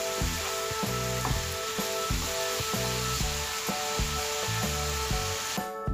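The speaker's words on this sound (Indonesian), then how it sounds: "Aku mau goreng tempenya ya teman-teman." Tempeh sizzles in hot oil in a pan, a loud, steady frying crackle with rhythmic scraping or stirring strokes throughout, no voices.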